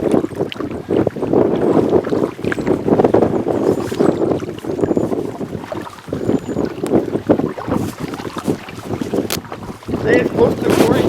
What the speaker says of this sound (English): Watch that wind. We're right into it, eh?